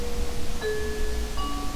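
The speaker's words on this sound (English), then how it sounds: "click Test Chime Tone" A UniFi UP Chime doorbell plays its test tone at low volume: two soft, clear electronic notes, the first sounding partway in and the second near the end, faint against a quiet room background.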